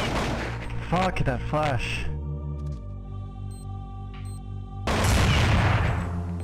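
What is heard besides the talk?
gunshots in the video game Counter-Strike 1.6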